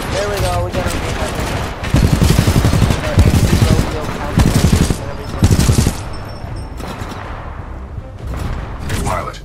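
Rapid automatic gunfire from the video game Titanfall 2 comes in loud, separated bursts over about nine seconds, mixed with game voice and ambient sound.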